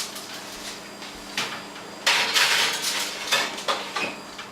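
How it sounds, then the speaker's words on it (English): A metal pan is handled with clattering knocks and foil crinkles while being sealed and slid into a 375-degree oven, with sharp clanks and rustles in quick bursts close by. "you want to cover it tightly with foil. And you want to put it into a 375-degree oven"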